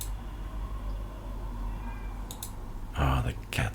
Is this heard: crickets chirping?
no